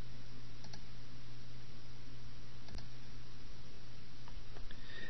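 Computer mouse clicks sound as a few faint, sharp, isolated ticks over steady background hiss, with one more distinct click in the middle.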